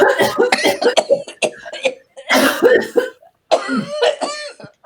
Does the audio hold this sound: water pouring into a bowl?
no